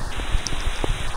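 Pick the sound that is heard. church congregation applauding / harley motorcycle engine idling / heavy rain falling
heavy rain falling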